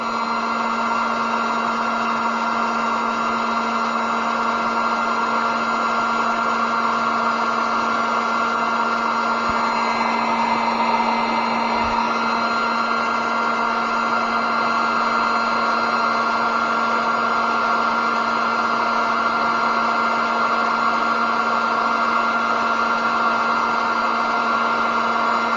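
Heat gun blowing steadily on a cutting blade used for cutting soft plastic fishing lures, a constant loud whirring hum with airflow hiss that runs unchanged throughout, no speech.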